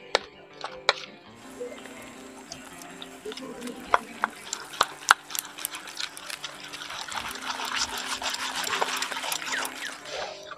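Water stirred into gram flour batter for Medinipur-style chop, with repeated clicking whisk strokes and wet sloshing that grows denser and steadier toward the end, close and moderately loud.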